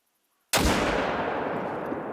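A single Eckers .30-06 rifle shot rings out in theHunter: Call of the Wild while zeroing the scope; after a brief silence comes one loud, sharp crack that trails off into a long, rolling echo.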